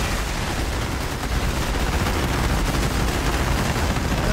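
Continuous dense rumble of bombs detonating in a DCS World flight simulator close air support strike on the Poti oil refinery, a sustained loud roar of overlapping blasts with crackling bursts and no talk.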